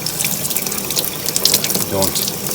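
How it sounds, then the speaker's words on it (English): Running water from a tap rinsing a Rotax aircraft engine air filter, a steady close hiss and splash throughout with small shifts as the filter moves under the stream. "rinsing that out, and look, starting to see some gray, like Steve Krieger told me,"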